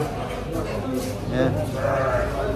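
At a livestock market, goats or sheep bleat nearby, with one wavering cry standing out over crowd noise and someone talking throughout.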